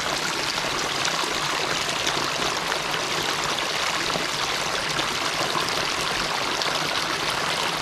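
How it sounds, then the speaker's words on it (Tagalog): Water pouring steadily from the outlet of a rice paddy fed by a canal, a constant close-up rushing trickle with no break. "pawasan po ng tubig galing sa pinagpunan natin na kaninang kanal"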